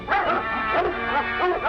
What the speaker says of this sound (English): Something stirred up the dogs.